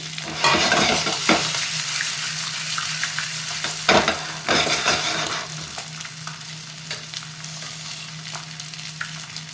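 Fish frying in a hot pan, a steady dense sizzle and crackle with occasional louder spatters and stirring scrapes running throughout, close and loud, with no talk.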